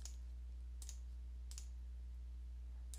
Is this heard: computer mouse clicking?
yes